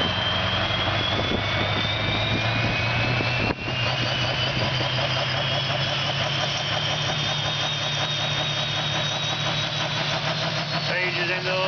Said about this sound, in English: Look at him over the V8 Caterpillar